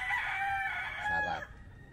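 A rooster on a provincial farm crows loudly and close, one long drawn-out cock-a-doodle-doo lasting over a second, with faint chicken clucking and low background noise after it fades.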